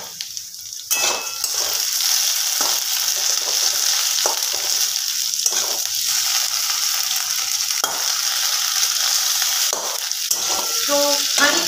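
Potatoes fry in a pan with loud, steady sizzling close up, broken by repeated scrapes and stirs of a spatula against the pan.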